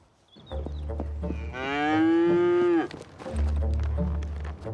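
A cow on a farm in the French Alps gives one long, loud moo close by, with lowing and rustling around it.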